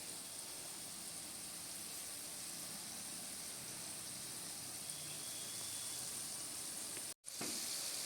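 Chhena rolls frying in ghee give a steady, soft sizzling hiss that runs evenly and quietly, with a brief cutoff near the end before the sizzle resumes.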